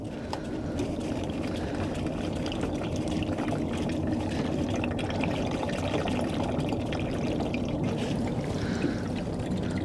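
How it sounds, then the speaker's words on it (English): Diesel fuel drains from a semi truck into an old oil gallon jug, a continuous splashing pour and trickle of liquid that runs steadily from start to finish with no talking. "then you want to drain the fuel out of this"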